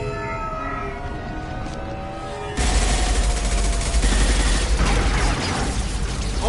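Gunfire in a video game firefight breaks out abruptly partway through, after a quieter stretch with a tonal hum. Dense, loud rapid shooting follows and continues to the end.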